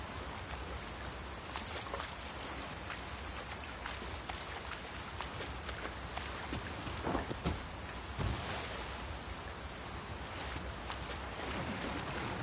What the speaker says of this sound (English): It is really coming down. We can push through a bit of rain